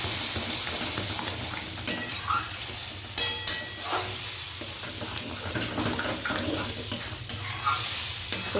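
Egg tarka stirred in a pan while it sizzles: a constant frying hiss with repeated scraping clicks from the spoon against the pan, close and fairly loud, with no talking.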